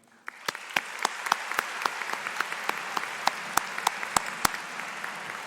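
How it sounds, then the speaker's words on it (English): Graduation crowd at a high school ceremony breaking into steady applause, a dense wash of clapping with a few sharp nearby claps standing out, sustained throughout without speech. "join me with a loud round of applause, students, to show how much you appreciate all that they've done for you"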